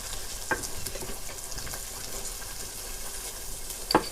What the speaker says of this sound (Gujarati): હવે હું બધા મસાલા નાખી દઉં.